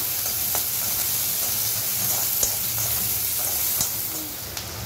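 Garlic and chili sizzle on a gas flame while being stir-fried for veg Manchurian, a steady close hiss of hot oil with faint clicks and scrapes of stirring.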